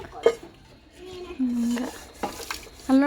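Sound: washing dishes, plates clattering

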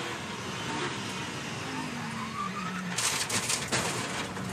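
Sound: race car driving past at VIR

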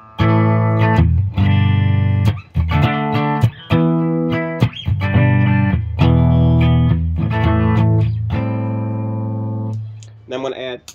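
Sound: clean electric guitar through Seymour Duncan P90 pickup

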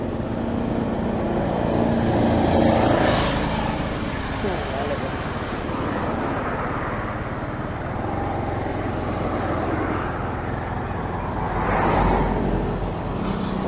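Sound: road traffic, vehicles passing a scooter

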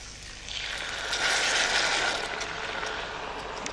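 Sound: frying chopped carrots, celery and leek in fat

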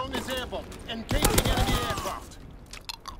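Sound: gunfire in Call of Duty WWII video game

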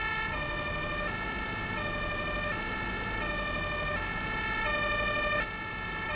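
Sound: emergency vehicle sirens in Farming Simulator 19 video game

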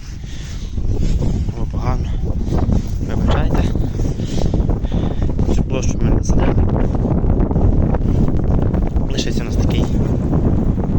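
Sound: wind blowing

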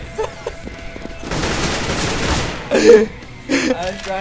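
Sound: gunfire in a shooter video game

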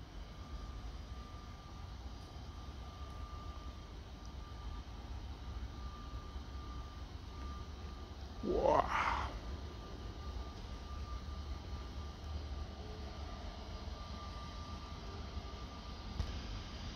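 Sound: airliner at Orly airport, Paris

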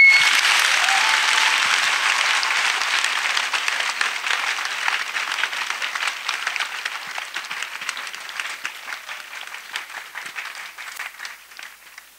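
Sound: audience applause

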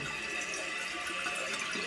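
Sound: water flowing in toilet tank overflow

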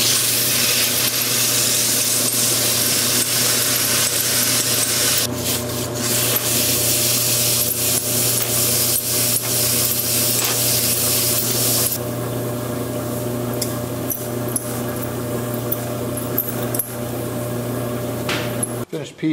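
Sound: sanding a bamboo fly rod reel seat with 80 grit

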